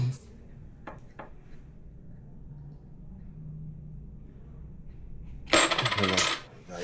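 A heavy coin rolls and wobbles on a hard surface, then clatters loudly as it drops and settles, the metallic rattle brief and close after a quieter stretch of faint handling noise.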